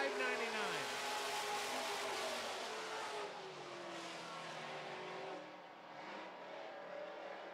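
Super stock race cars roar past on an oval track, a loud engine drone that slowly fades as the pack moves away, with a commentator talking over it.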